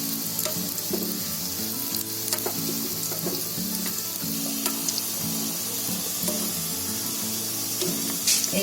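Tikkis frying in a pan over lowered heat, a continuous close sizzle broken by clicks and scrapes as the patties are pushed aside and flipped with tongs, no voices.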